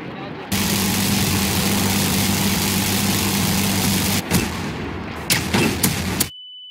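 Aircraft engine drone in Garry's Mod holds steady, then a cluster of sharp, loud bursts erupts near the end as the plane blows up.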